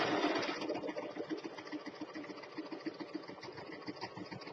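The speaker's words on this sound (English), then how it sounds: "I'm going to lift it up and pivot the card like that. And you're just sewing it like you would fabric." A sewing machine stitches through a paper card, giving a steady, fast mechanical whir with a regular needle rhythm that holds close and clear throughout.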